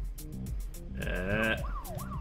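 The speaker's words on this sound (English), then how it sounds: "the ambulance turned its siren on" A wailing video game ambulance siren sweeps up and down over a low engine hum, loud and close, with electronic-sounding tones.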